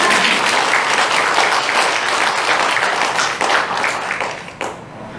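Dense, loud applause from the congregation at a Sunday Buddhist service fills the room, then thins and cuts off near the end.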